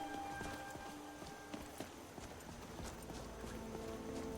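Footsteps in Skyrim with a sound overhaul mod, a steady run of close clip-clop impacts like hooves on hard ground, evenly paced over a dense ambient bed.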